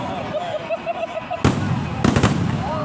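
Fireworks at a St. Greg's show burst overhead in sharp, loud booms with crackling tails, two big explosions following a stretch of softer pops and whistling, with crowd voices faint beneath.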